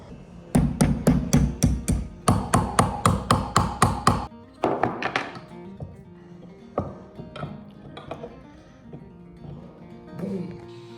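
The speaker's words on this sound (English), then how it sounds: "After considerable hammer hits" A hammer strikes a silver bracelet being shaped: about a dozen sharp, evenly spaced metallic taps ring out close up, then slower, softer, irregular blows follow with quiet gaps between.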